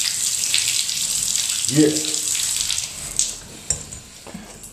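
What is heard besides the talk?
water running from a tap in a house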